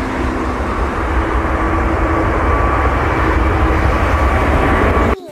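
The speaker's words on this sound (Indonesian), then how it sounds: "Ini kapal terbang." Airplane engine drone, a steady loud broadband roar with a faint whining tone running almost unbroken for about five seconds, then cutting abruptly near the end.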